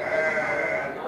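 Breeding ewes bleating in a steady, sustained call that fills the whole moment, close and fairly loud with no talk over it.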